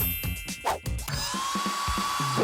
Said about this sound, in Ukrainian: Хороший фен.